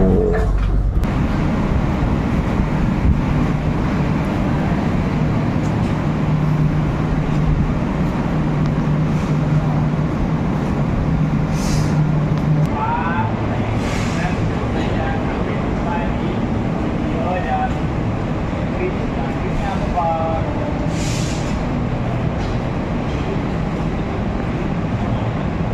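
Cabin of the Argo Merbabu passenger train running from Jakarta to Semarang, with a constant low rumble and rolling hum throughout, occasional faint squeals and knocks, and people talking quietly inside.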